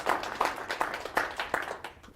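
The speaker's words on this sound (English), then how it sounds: "Give this guy a round of applause, please" Audience in a church claps after a presentation at Cornerstone Church, a moderate round of applause with distinct, irregular clap bursts that rise and fall steadily for a couple of seconds before thinning out.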